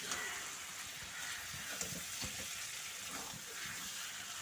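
Potatoes for vegetarian aloo dum sizzle and fry in a pan, a soft steady hiss broken by light scraping stirs, faint and close.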